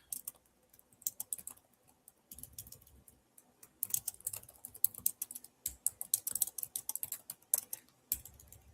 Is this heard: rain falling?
no